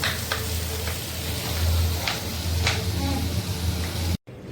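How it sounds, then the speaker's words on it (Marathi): Steady sizzling of tomatoes frying in a pan, a close hiss with occasional stirring clinks and scrapes, no voices. "नंतर टॅमेटो फ्राय करून घ्यायचं"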